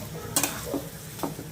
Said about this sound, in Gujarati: હવે બટાકાનો માવો છે એની અંદર આપણે એડ કરી દઈએ. સરસ મસ્ત વઘાર થઈ ગયો છે અને બરાબર મિક્સ કરી દઈશું.